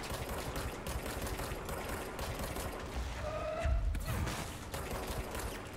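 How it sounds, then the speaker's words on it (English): In the video game Control, a small minigun fires in a steady, fast stream of rounds, a buzzing rattle that holds for the whole stretch and swells briefly near the middle with a sharp metallic whine. "Okay, it's a little minigun, okay."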